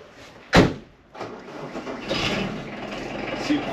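Homemade Furycan prototype vehicle moving for the first time: a sharp loud bang, then an engine rising into a steady, rough, close-up running drone that holds to the end.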